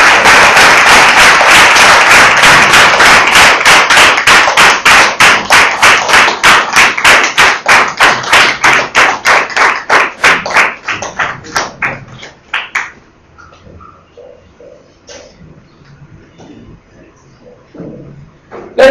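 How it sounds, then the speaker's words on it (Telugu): A congregation at a Telugu church service claps hands in a fast, even rhythm, loud and crisp at first, then thinning and fading into scattered claps before stopping. "అందరూ చప్పట్లు కొట్టి ఆహ్వానించండి."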